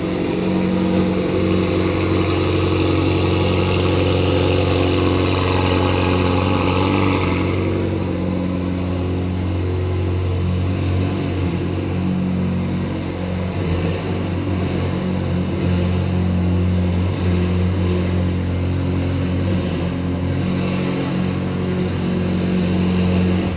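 A 700.840-horsepower racing car engine holds a loud, steady rev with a strong droning tone, then drops to a rough, lower idle for the rest of the stretch.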